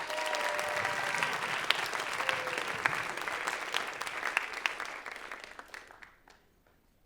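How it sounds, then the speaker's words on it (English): An audience at a school writers' week event claps steadily for several seconds, then the applause thins and fades out to near silence. "Give them one more big round of applause."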